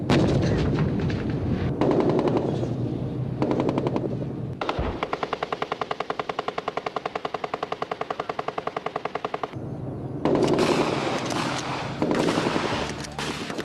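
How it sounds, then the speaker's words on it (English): Cadets' military field firing exercise with mortar, artillery and tank fire: loud, sustained rapid bursts of automatic gunfire hammering in a fast regular rhythm, broken by brief pauses and heavier blasts. "Cadets carry out field firing with the support of mortar, artillery, tank fire and close air support."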